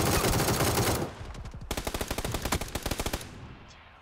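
Automatic gunfire in the battle royale game PUBG: a loud sustained burst gives way to rapid, evenly spaced shots in a long rattling string, fading toward the end.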